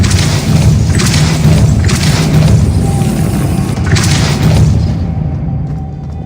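A Depulso force-push spell blast in Hogwarts Legacy, a loud booming burst with a rumbling, thudding body that rolls on for several seconds before cutting off.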